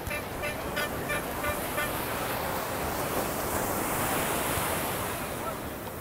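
Ocean waves breaking on a sunny beach at Praia Brava as the tide turns, a continuous loud roar of surf with wind buffeting the microphone and no voices.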